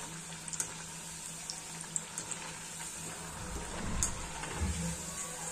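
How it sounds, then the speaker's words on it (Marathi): Kothimbir vadi, coriander fritters, frying in hot oil, giving a steady soft sizzle with faint bubbling and a few small crackles throughout, no talking. "चला तर मग पूर्ण असेच फ्राय करून घेऊया।"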